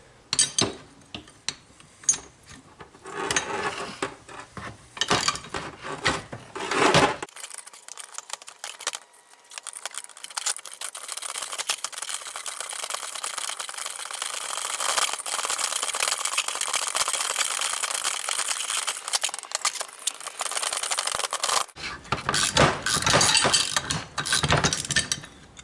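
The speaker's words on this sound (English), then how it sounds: "then we're going to hold this with a wrench and turn this one" A wrench works on the pulley nut of a power steering pump on a RAM SRT10, giving a long run of close metallic clinks, jingles and rattles, steady and busy with no speech.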